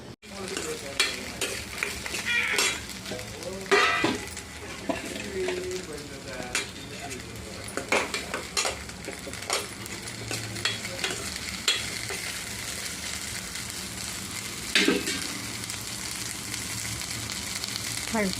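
Food sizzles steadily in hot oil in a home kitchen, with scraping stir strokes and occasional metallic clinks of a utensil against the pan, while someone talks intermittently nearby.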